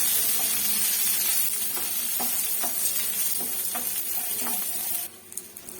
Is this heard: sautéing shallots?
yes